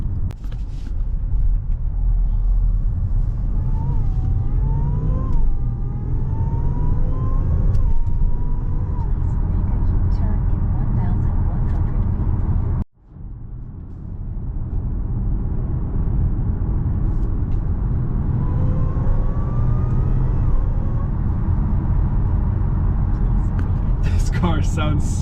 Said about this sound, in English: Car sounds so good. All that's done to it is an intake, which that's all you really need to make it sound like that.